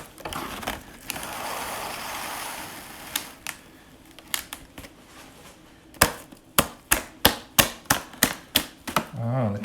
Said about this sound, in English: So I'm going to be using a little bit of cling film. So I'll just cut some here.